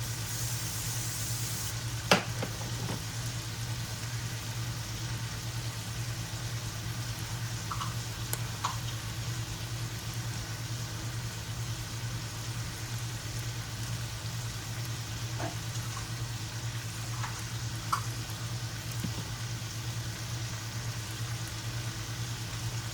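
Steak wraps held with toothpicks fry in a pan, a steady moderate sizzle with a constant low hum beneath and a few sharp clicks and scrapes scattered throughout.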